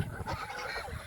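King ducks (geese) honk close by in a short, busy burst of overlapping nasal calls, fairly faint overall.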